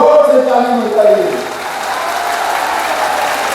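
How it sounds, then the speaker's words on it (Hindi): Large outdoor crowd at a political election rally in Palghar, Maharashtra, applauding loudly and continuously, the dense clapping settling into a steady wash while a voice briefly speaks over it at the start. "एकनाथ शिंदे जी के लिए जोर से ताली बजाइए।"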